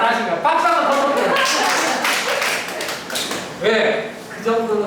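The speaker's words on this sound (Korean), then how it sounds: "박수 한번 더 쳐주세요." An audience at an education lecture claps in a lively burst that swells, dips, then rises again, with a voice speaking briefly at the start and again near the end.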